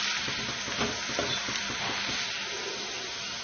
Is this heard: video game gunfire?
no